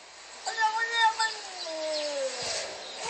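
A cat meows in a video playing back on a device. One drawn-out, slightly muffled meow rises and then slides downward over about two seconds.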